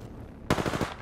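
A sudden, close burst of rapid automatic gunfire from a video game, a few quick shots in a tight rhythm after a near-silent moment.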